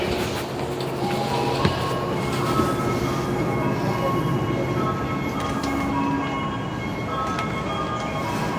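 A Tokyo subway train runs steadily with a loud, constant rumble and rattle of wheels on track, thin squealing tones riding over it, and a few brief clanks along the way.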